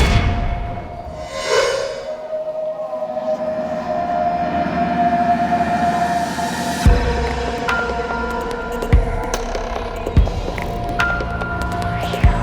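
A train at a railway station platform: a steady rumbling roar with a sustained tonal whine that swells and holds, then repeated heavy clunks and knocks as carriages roll past, fairly loud and close with no talk.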